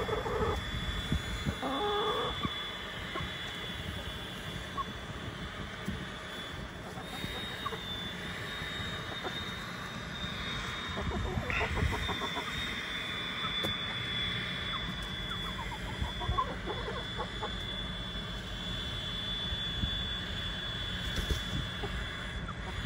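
Several chickens cluck and murmur close by as they perch on a person, soft irregular clucks over a steady background drone, with occasional quiet speech.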